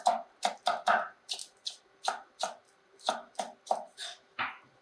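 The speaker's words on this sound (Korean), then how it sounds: "오이 편 썬 거 이렇게 줄 맞춰서 채 썰어주세요" A knife julienning sliced cucumber on a cutting board: about thirteen crisp, evenly spaced chops in a steady rhythm, close and clear, with no talking.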